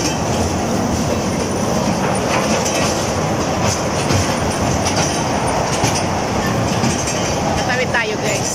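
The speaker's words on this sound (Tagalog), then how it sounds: "O, ayan na ang tren." A train rolls through inside Festival Mall in Alabang, a loud continuous rumble with clattering wheels and a faint squeal, close by and unbroken over the whole stretch, with voices mixed in.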